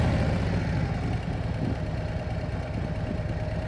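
A motorcycle engine idles steadily just after being started on a flat surface, a continuous low rumbling drone with a slight dip partway through, close and alone with no talking.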